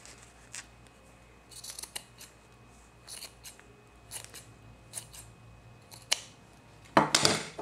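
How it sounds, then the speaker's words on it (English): Scissors snip extra satin fabric off a foam roller in a series of sharp, separate cuts, close and fairly quiet, ending with a louder rustle of the fabric. "You're just gonna snip off the extra, taking care not to actually trim"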